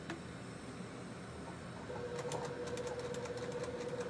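A domestic sewing machine stitches in reverse to lock a stitch on fabric for a mask, giving a steady motor whir with a faint hum that becomes slightly louder and more pronounced partway through, close up with no talk.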